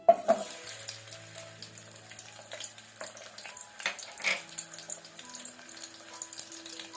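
Chopped small onion pieces drop into hot oil in a pan for a green tomato chutney, a soft crackling sizzle after a couple of sharp clatters, with light stirring scrapes and faint clinks throughout.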